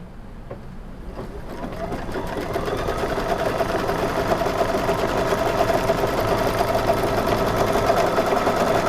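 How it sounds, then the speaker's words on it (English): A sewing machine stitches down appliqué fabric for a Halloween cat placemat block, starting with a few slow clicks and then speeding into a loud, steady, rapid mechanical whir that runs close and unbroken. "let's tack down the fabric"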